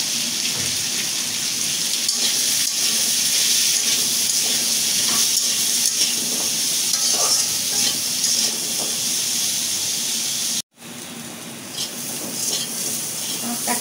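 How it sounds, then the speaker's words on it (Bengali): Boiled jackfruit seeds fry in a pan with salt and turmeric, giving a continuous loud sizzle close up, broken by scraping stirs and one brief gap near the end. "কাঁঠালের আটিটা ভাজা হয়ে গেছে।"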